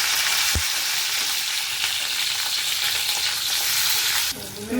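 Masala green chillies fry in a pan, a dense continuous sizzle with one sharp knock near the start and a brief shift in tone near the end.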